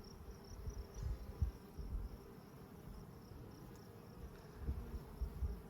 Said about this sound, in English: I'm going to be very careful not to squish any bees.